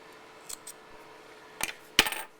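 Scissors snip through crochet yarn while a small pink newborn beanie is finished off, giving two or three short, crisp cuts near the end of an otherwise quiet stretch, with a faint click earlier.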